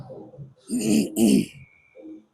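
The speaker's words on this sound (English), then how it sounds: "Now you can hear me clear my throat lots." Throat clearing by a hockey game commentator between periods, two rough guttural bursts close to the mic, then a short softer grunt.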